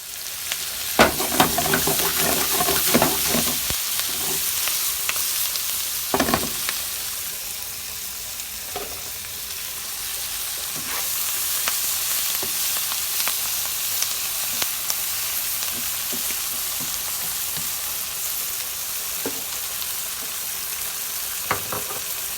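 Three pasture-raised eggs and greens frying in grass-fed butter in a pan, a soft continuous sizzle and hiss with scattered utensil clicks and stirring scrapes, loudest near the start.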